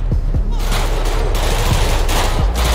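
NPC security guards in GTA 5 fire sustained, dense gunfire, a loud continuous fusillade of rapid overlapping shots with sharp individual cracks throughout, close and dominant.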